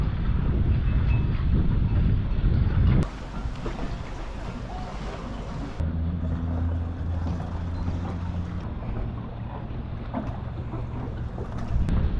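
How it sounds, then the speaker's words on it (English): Harbor ambience at Parry Sound with moored boats: steady wind buffeting the microphone and a low rumbling drone, shifting in level partway through, with no talk. "Hey, so this is the Parry Sound Harbor. A lot of nice boats."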